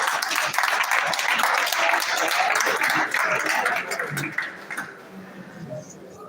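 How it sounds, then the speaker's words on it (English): An audience at an accountants' leadership retreat applauds, a full burst of many hands clapping together that thins out and fades to scattered claps over the last couple of seconds. "Give me a round of applause."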